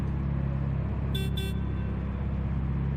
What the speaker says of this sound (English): I hear some horns.